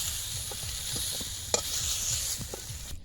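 Eggplant fries in oil in a pan, a soft, steady sizzle with occasional stirring scrapes, quiet and close, with no talking.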